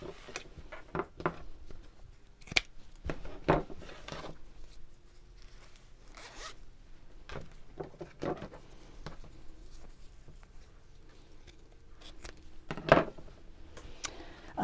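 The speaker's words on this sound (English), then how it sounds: "the next thing to do is to chop off the ends of the zip" Scissors trim the ends off a zip while a pocket for a fabric sewing-template storage pouch is being made, giving quiet, irregular snips and handling clicks spread over the whole span with no talk.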